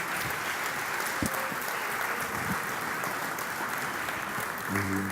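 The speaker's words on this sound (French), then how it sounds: "Merci d'applaudir nos invités de cet après-midi." An audience at a trade union congress applauds the afternoon's guests, steady dense clapping throughout the hall with a brief tone near the end.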